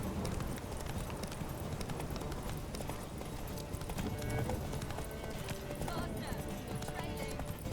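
Hooves of the horse Roach from The Witcher 3 pound in a steady galloping clip-clop throughout, with a whinny and a voice talking over the run.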